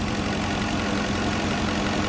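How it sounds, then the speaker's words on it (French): A rebuilt Porsche Cayenne V8 4.5-litre bi-turbo engine idles steadily, a smooth, continuous close-up hum with no voices. "Le moteur tourne à merveille."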